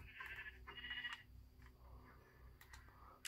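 Two short bleats from a white sheep in Minecraft, close and clear, with faint game ambience and a low hum beneath.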